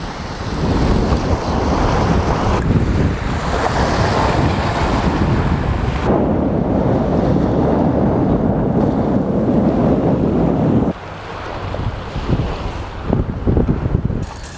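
Sea waves breaking at a beach in Dover make a continuous loud roar mixed with heavy wind buffeting the microphone, easing slightly toward the end.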